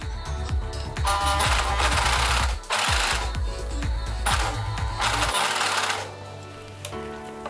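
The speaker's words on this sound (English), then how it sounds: "I will start overlocking, and I will start from this edge" An overlocker runs along the edge of a polo shirt neckband in loud, rapid, buzzing bursts, stopping and restarting several times before falling quiet.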